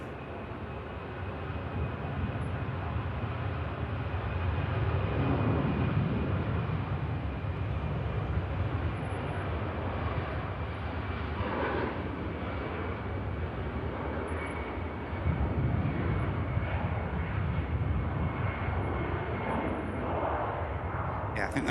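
An EasyJet airliner takes off at Manchester Airport, a broad, continuous jet roar that holds steady from a moderate distance throughout, with no voices over it.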